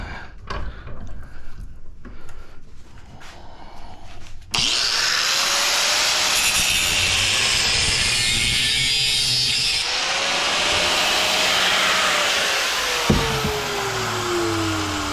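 A battery angle grinder cutting brass scrap clamped in a vise, starting after some handling clatter into a loud sustained whine and grinding rasp that wavers in pitch as the blade loads, close and alone.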